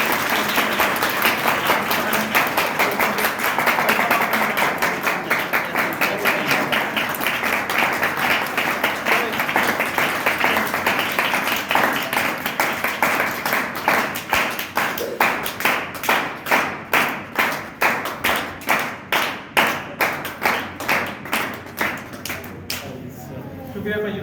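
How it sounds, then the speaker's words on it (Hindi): A church congregation at the AG Church in 34 Chak gives loud, sustained applause lasting over twenty seconds. The claps grow more rhythmic and unison toward the end before fading, and faint voices sound underneath. "तो मैं चाहूँगा हम इन्हें भी मुबारकबाद दें और ज़ोरदार तालियों के साथ।"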